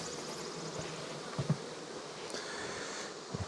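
A close, steady drone of honey bees crawling on a hive frame at an outyard, with a few soft thumps and knocks of handling scattered through the buzzing.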